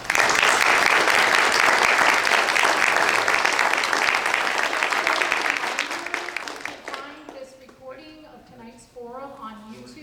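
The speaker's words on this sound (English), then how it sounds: "Now we can applaud." Loud, dense applause from an audience fills the first seconds, then thins out and fades while a voice begins talking over it.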